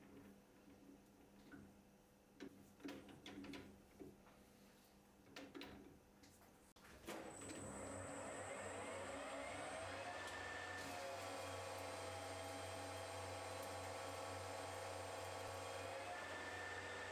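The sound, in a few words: Colchester lathe taking a heavy cut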